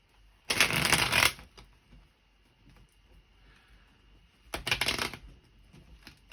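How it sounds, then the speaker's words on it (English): Tarot card deck being shuffled, two distinct riffling bursts of cards close by, the first about a second long and the second shorter, separated by near silence. "I have a hard time shuffling this deck"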